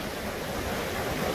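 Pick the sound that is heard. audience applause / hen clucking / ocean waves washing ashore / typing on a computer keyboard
ocean waves washing ashore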